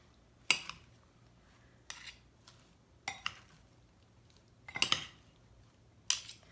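Raw vegetables for a vegan rainbow pad thai being tossed in a bowl with dressing, a few sharp, separate clinks and scrapes spaced every second or so against near silence.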